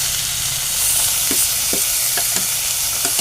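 Ground spice paste for a ripe-tomato chutney fries in a pan with a steady, close hiss, punctuated by a few soft stirring scrapes spaced through the sizzle.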